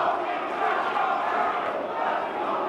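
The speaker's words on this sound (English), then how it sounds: "And they're cheering their man, New York's own." A wrestling crowd at an independent pro wrestling show roars and cheers continuously, a loud sustained wash of voices filling the arena.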